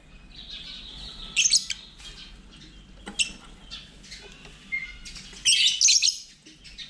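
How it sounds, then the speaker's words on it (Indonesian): Several small birds chirp and tweet in short bursts near a home, with brief louder calls against a quiet background and no talking. "Burung, banyak burung."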